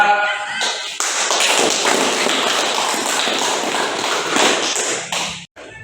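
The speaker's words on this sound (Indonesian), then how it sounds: "tepuk tangan dulu untuk kelompok 2" A class of schoolchildren claps together for a group during a church-life religion lesson, a dense, steady burst of many hands lasting several seconds and then stopping abruptly.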